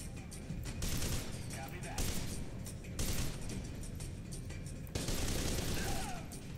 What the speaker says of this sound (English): Jesus, stop shooting me.